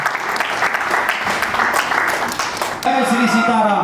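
A crowd at a cultural festival in Ayodhya claps warmly to welcome a guest named Kuldeep, with steady applause for nearly three seconds before a voice over a loudspeaker cuts in.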